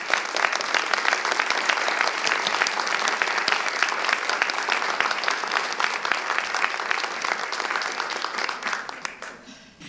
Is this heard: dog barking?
no